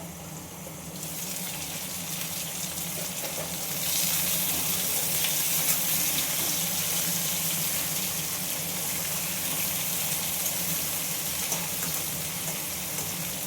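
Vegetables cooking in a pan keep up a steady, close sizzle and hiss once the lid is lifted for stirring, with the hiss growing brighter and louder partway through and staying dense to the end.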